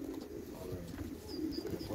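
A pigeon from a racing pigeon line gives a soft, faint, low coo, brief and alone with no talk.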